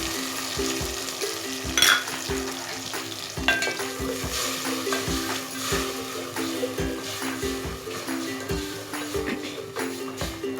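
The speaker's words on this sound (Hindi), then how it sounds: "साथ ही मैं इसमें लहसुन पेस्ट भी ऐड कर दूँगी।" Continuous sizzle of garlic paste frying with onions in a pan for aloo gobhi, with repeated spatula scrapes and occasional clinks against the metal, close by.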